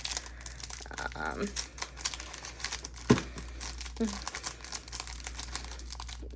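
Plastic packaging around a set of K-pop photo cards crinkles and crackles in bursts, with a louder crunch near the middle and a voice faintly present underneath.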